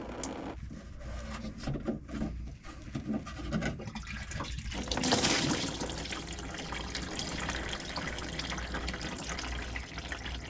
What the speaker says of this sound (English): Here comes the diesel fuel. Just let that drain as much as we can first.